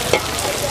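Small cakes fry in a pan with a steady, close sizzle of hot oil and a faint clink of a utensil, at an outdoor night lotto event.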